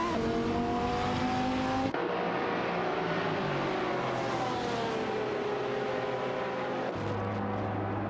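Video game race cars, a Panos Abruzzi GT2 and a Lamborghini Gallardo GT3, whine past with rising and falling engine tones, abrupt shifts in pitch and tire hiss, continuous and moderately loud.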